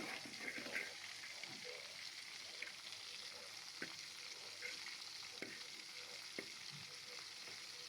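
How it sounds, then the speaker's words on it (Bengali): Pieces of hilsa fish crackle in hot oil in a frying pan, a quiet continuous sizzle broken by scattered sharper pops and spatters. "ভেজে নিচ্ছি, এক পিঠ ভাজা হয়ে গেলে অন্য পিঠ ভাজবো।"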